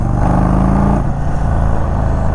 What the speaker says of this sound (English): It's got a very crackly sound to it when you let off the accelerator.